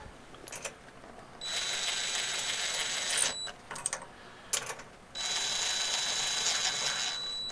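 A socket ratchet tightens 10 mm nuts on a buggy's air intake fitted to a Harbor Freight motor, giving bursts of rapid metallic clicking with short taps and pauses between, close up and with no talk.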